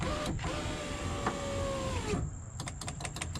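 Power window on a 2008 Ford F150 with a newly replaced regulator, its motor whining steadily as the glass travels, then stopping with a thud, followed by a few faint clicks.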